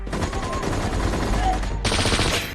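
Dense, continuous gunfire and loud action noise from a sniper scene in the film The Taking of Pelham, with a harsh burst of noise near the end over a busy mix, and no clear voice.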